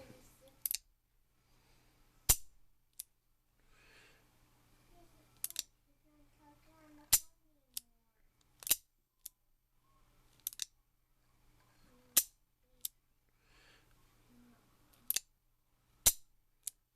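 A .38 Smith & Wesson Victory lend-lease revolver is dry fired, giving sharp, isolated metallic clicks spaced a second or two apart in a quiet room, with faint handling noise between them.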